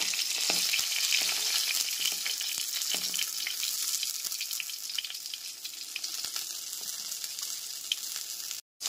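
Pieces of rohu fish fry in hot oil in a pan, a dense, close crackling sizzle running steadily throughout with occasional stirring clatter, ending abruptly.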